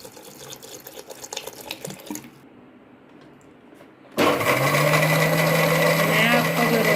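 Water poured while making a summer drink with sugar and black salt, starting as a soft stream, dropping briefly, then turning into a loud, steady rush of pouring that fills the last few seconds.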